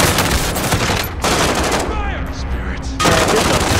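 Dense, loud gunfire from Call of Duty: Modern Warfare, continuous rattling shots that drop out briefly then return, with battlefield noise and a faint whistling sweep in between.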